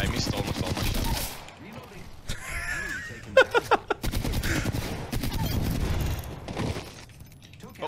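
Rapid gunfire from a video game, with bursts of shots and a few sharp isolated cracks, loud and close, mixed under players talking throughout.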